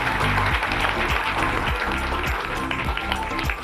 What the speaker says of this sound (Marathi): एकदा मोठ्याने टाळ्या वाजवायच्या आहे